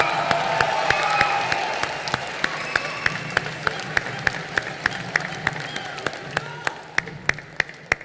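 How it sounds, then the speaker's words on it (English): An audience at the IFFI 2022 film festival closing ceremony in Goa claps for megastar Chiranjeevi, a broad wash of applause fading into sparse, sharp individual claps while a voice carries over music. "Round of applause for Chiranjeevi sir."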